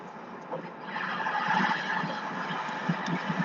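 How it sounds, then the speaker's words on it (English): Heard from inside a Tesla Model 3 on the road, a loud truck passes close alongside with a steady rushing roar of engine and tires. No one speaks. "Fucking truck next to me is loud."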